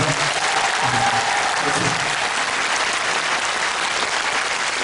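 A crowd claps steadily and loudly throughout, a dense, even wash of applause with no pauses.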